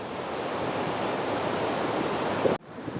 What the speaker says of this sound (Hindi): बाकी ये नदी अपनी गंगोत्री धाम से आती हुई।